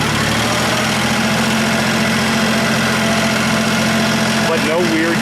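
A John Deere 1050 tractor engine runs loud and close in 2nd gear on an incline, a steady low diesel drone with rattling vibration throughout, and someone speaks briefly over it near the end.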